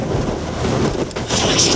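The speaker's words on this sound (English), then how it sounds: "It's a bit windy." Winter wind gusts on Great Mis Tor near Merrivale buffet the microphone with a loud, rumbling roar that dips briefly and then rushes back stronger.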